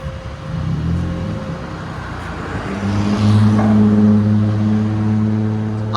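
A 2010 Scion tC with a 2.4L engine, Vibrant Ultra Quiet resonator and muffler delete, backing up with a steady low exhaust drone that swells slightly as it moves, close by with no talking.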